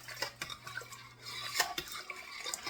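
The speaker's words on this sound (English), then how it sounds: "Let's stir that all in." A utensil stirring Cajun smoke seasoning into a seafood boil soup in a pot, with repeated scraping and clinking strokes against the metal heard close and fairly quiet, with no talking.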